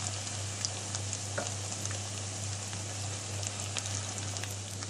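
Cypriot meatballs frying in a pan of oil, giving a steady dense sizzle with scattered small pops and crackles, close and even throughout, over a faint low hum, no speech.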